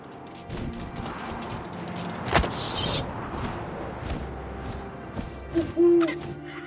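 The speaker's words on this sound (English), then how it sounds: "And suddenly, I was an owl." Owl hooting in the video game What Remains of Edith Finch, over soft wind and rustling ambience, with a sharp knock midway and a brief tonal call near the end.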